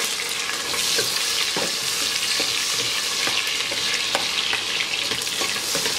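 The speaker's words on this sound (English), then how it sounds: "fry this till the onions are soft" Sliced onions and green chilies fry in a pot for prawn pulao, a dense, continuous sizzle punctuated by regular clicks and scrapes of a spatula stirring close by.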